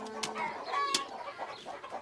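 Hungry hens clucking on a farm in a cartoon, a few short overlapping clucks and squawks at moderate distance, with a sharper cry near the middle over light farmyard background.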